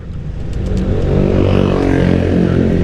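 Aveta Nova 200 scooter pulling hard up a hill, its engine note steady and strong as it accelerates, heard close and alone with a continuous whirring drone.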